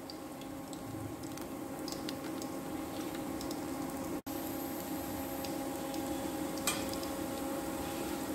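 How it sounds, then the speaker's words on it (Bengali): Egg, cauliflower and masoor dal pakoras frying in hot oil, giving a steady, continuous sizzle with faint crackles throughout, alone without talk. "তাহলে এগুলো ভাজা হোক তারপর আবার ফিরে আসছি"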